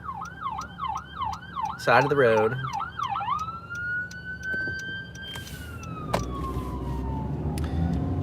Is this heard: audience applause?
no